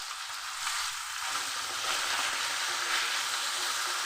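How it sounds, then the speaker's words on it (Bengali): Thin, long slices of pointed gourd (potol) and potato fry in a pan with turmeric and salt, making a steady, close hiss of oil that swells slightly partway through and then holds. "লাল করে পটল ভেজে নেব।"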